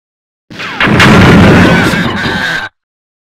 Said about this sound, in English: Firing at will.